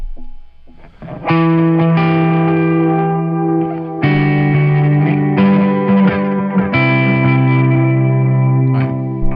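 Sustained electric guitar chords played through an effects pedal, with distortion, chorus shimmer and reverb, loud and continuous for several seconds.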